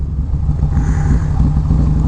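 Harley-Davidson performance bagger with an SNS 475 cam, its engine loud and close with a continuous deep throbbing rumble that holds steady and strong throughout, no voices over it.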